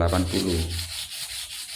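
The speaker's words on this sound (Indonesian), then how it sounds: "setelah mengering kita amplas menggunakan sanding block dengan grid sandingnya atau grid amplasnya ini 380" A 380-grit wet-use sanding block rubs across a custom car side skirt for a Toyota Avanza or Daihatsu Xenia, giving a close, steady abrasive scraping stroke that fades into a softer hiss.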